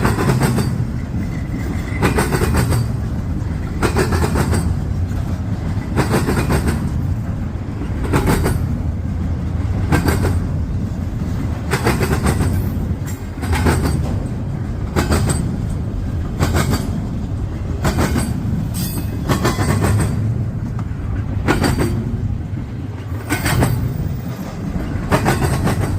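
A freight train hauling refrigerated intermodal cars rolls past, a loud continuous rumble with steady rhythmic clickety-clack of wheels over rail joints lasting throughout, no voices.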